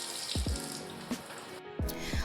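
Shower water running while hair is rinsed, a steady close hiss of spray with a few low splashing thumps and gurgles breaking through.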